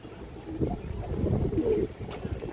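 Khaki pigeons cooing in low, soft, repeated bursts throughout, fairly close, with a steady bird-market murmur behind.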